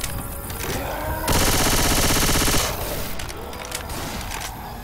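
Sustained automatic gunfire from a tank-chipping fight in a competitive video game tournament, a dense loud burst lasting over a second amid fainter scattered shots and game noise.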